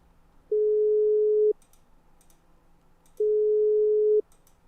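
Telephone busy signal on an unanswered call: two long, steady tone pulses separated by a gap, clear and alone over a faint background hum.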